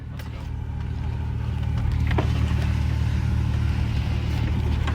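Subaru rally car with bevelled bodywork rolling in reverse, a steady low engine drone with faint mechanical clicks, close and continuous.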